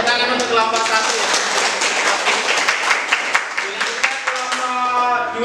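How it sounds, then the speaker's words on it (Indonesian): A classroom group receives applause after presenting, with scattered claps through steady, lively voices that run under and over the clapping for the whole stretch. "beri tepuk tangan untuk kelompok 1 ya"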